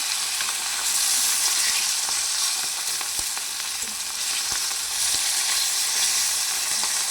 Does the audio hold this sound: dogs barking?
no